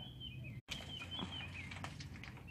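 Many birds sing along a hiking path beside a bike route, with a thin whistling call rising over steady outdoor noise and soft footsteps close by.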